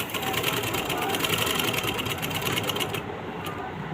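A sewing machine stitches a kameez, a fast steady mechanical whirr and rapid needle clatter close by, running continuously before it cuts off near the end while someone talks.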